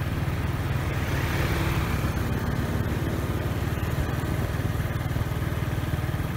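A motorbike engine runs steadily up close on a very quiet road in Da Lat, Vietnam, a continuous throaty putter with rattling, and nothing else audible.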